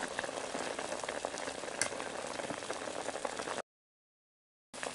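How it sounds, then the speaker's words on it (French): Turkey pieces for a fricassee simmer gently in a pan, a steady, close crackling bubble that runs evenly for several seconds and then cuts out briefly before resuming. "on maintient une petite ébullition comme ça"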